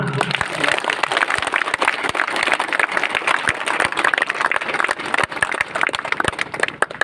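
A crowd at a driver association meeting on an outdoor school ground claps for an introduced member, giving loud, brisk, continuous applause with sharp individual claps standing out and some voices underneath.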